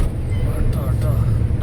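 A truck engine climbs in speed on the road near Thoppur, heard from inside the cab as a steady, loud low-pitched drone that rumbles on without a break.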